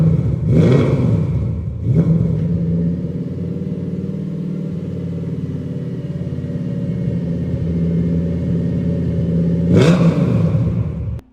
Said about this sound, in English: who needs a radio when the engine and exhaust sound like this?